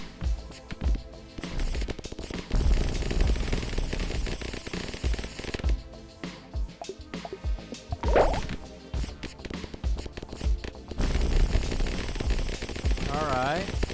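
Lasers firing in a video game: rapid, irregular bursts of crackly zaps that come and go, with a warbling, rising tone in places, heard alongside a talking voice.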